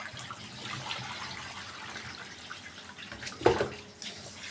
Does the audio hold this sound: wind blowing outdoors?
no